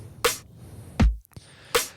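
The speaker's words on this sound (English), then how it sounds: "just a kick and a snare that I've programmed in" A sparse programmed drum pattern: sharp snare hits alternating with a deep kick thump, evenly spaced, dry and close, with no other instruments.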